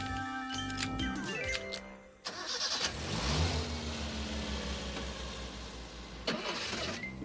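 A car engine cranks and catches, then runs and revs steadily at mid pitch for several seconds, with a brief dip before picking up again; moderately loud with no talk over it.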